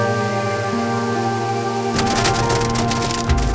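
Hail and rain begin abruptly partway through in the Rhodope mountains, a dense crackling patter of stones and drops on surfaces, loud and close, following a steady low background hum.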